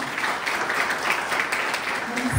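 An audience clapping and applauding after an amateur dance performance, a dense continuous wash of many hands close and loud for a couple of seconds.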